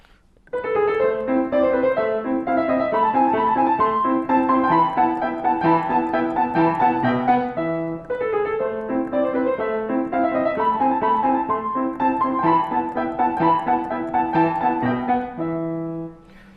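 A solo piano plays the opening of Mozart's Sonata K331, the Alla Turca, with crisp, rapid staccato notes in a steady bright rhythm, loud and close with no talking.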